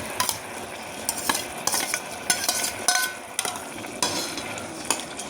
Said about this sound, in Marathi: आमचा नवीन आविष्कार आहे, पाणीमध्ये कांदे फ्राय करणं